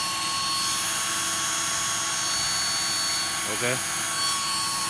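An old used cordless drill runs steadily, giving a continuous, fairly loud motor whine with a faint buzzing edge that holds for the whole stretch, while a voice speaks one brief word near the end.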